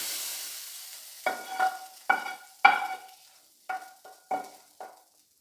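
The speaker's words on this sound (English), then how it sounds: "Mix it well and let it simmer for at least 2 minutes." A tempering is mixed into simmering lentil dal with about half a dozen distinct scraping strokes of a spoon through the thick mixture, fairly close and clear, then quiet.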